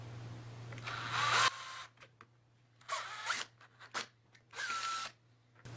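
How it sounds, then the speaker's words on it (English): A small metal drill bit bores a hole in short, whirring bursts: one long run, then a few briefer spurts separated by quiet gaps, close and fairly loud with a low steady hum underneath. "first we're gonna use a smaller drill bit"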